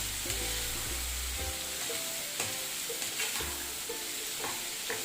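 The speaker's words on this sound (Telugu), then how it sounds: "అంతా ఇప్పుడు మనం చక్కగా ఫ్రై చేసేసుకుందాం." Egg fried rice with scrambled egg frying in a pan, steady sizzle with repeated scraping and stirring strokes of a spatula against the pan, close and continuous, no voices.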